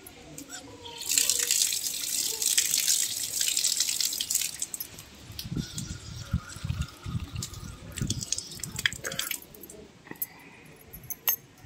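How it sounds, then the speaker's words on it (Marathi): Tap water runs steadily into a basin while feet are washed at a temple, a bright continuous splash that later breaks into lower, uneven sloshing and dripping, with faint voices in the background. "चला आता पाय धुवून घेऊ।"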